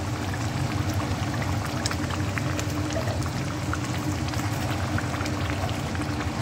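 Fish heads dropped into a pan of boiling mustard gravy, a loud continuous bubbling, sizzling hiss that stays steady and close throughout, with no talking.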